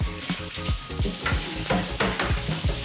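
Spices frying in grapeseed oil in a pan while being stirred, a steady sizzle broken by a regular rhythm of scraping strokes, close and fairly loud with no voices.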